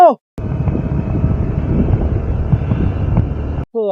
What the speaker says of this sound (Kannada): ನೋಡಿ ಈ ತರ ಜೀಪ್ ಎಲ್ಲ ಬರ್ತಾ ಇರುತ್ತೆ, ಸೊ ನೀವು ಸ್ವಲ್ಪ ಜಾಗೃತಿಯಾಗಿ ಗಾಡಿ ಓಡಿಸ್ಬೇಕು